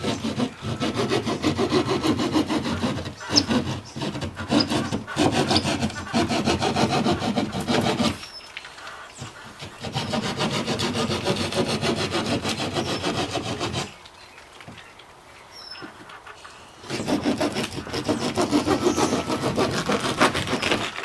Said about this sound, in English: Keyhole saws work good